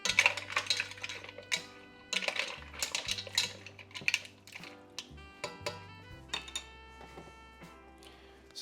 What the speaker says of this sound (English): So I'm going to stir this all together.